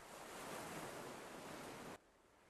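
Broad, steady rushing of ocean surf fills the clip at low level, then drops off abruptly near the end, with no talking.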